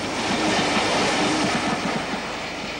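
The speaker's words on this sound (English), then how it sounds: "The arrival of Tamar Valley with an up train precedes the approach of an unusual visitor." A steam train hauled by the locomotive Tamar Valley rolls in with a steady rhythmic clickety-clack of wheels over rail joints, loud and continuous, with no voices.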